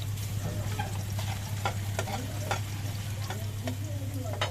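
Garlic sautéing in a pan for chicken tinola gives a steady near hiss with a low hum underneath, punctuated by several sharp spatula scrapes and taps.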